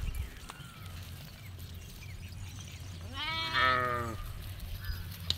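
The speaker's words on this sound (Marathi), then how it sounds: "सोनू दिसतोय हळूहळू चाललेला आहे मेंढ्यांच्या पाठीमागे." A single sheep bleats clearly at mid distance, a wavering cry lasting about a second, heard over quiet outdoor background at a shepherd's flock.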